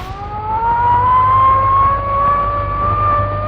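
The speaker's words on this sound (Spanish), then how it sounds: "La sirena." A siren in a scene from an old film starring Pepe Arias wails loud and close, one sustained tone slowly rising in pitch over a low rumble, with no voices.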